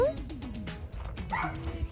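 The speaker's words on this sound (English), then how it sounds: "the dogs are very excited" Excited dogs yip, whimper and give short barks outdoors in a garden, close by and overlapping with someone talking over them.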